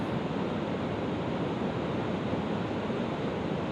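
A river rushes over a bed of rocks in a dense, steady roar of broadband water noise, close and loud, with no breaks and no voices.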